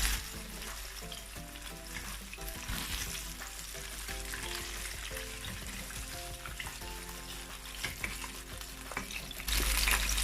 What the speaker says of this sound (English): You want to fry till golden brown.